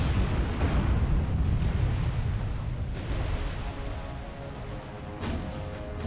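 In the naval video game War on the Sea, a warship rams another ship with a heavy, rumbling crash. A deep, sustained roar like surging water slowly fades, and a brief louder burst comes near the end.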